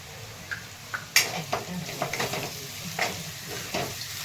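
Eggplant pieces stir-fried in hot oil with turmeric in a home kitchen pan, giving a soft steady sizzle broken by scattered scraping clicks of a spatula, fairly close and moderate in level with no talk.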